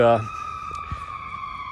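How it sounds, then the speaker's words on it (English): Fire engines roll down a street with their sirens sounding, a steady wailing tone held under continuous background noise after a brief louder burst at the start. "I've got some fire engines coming down the street"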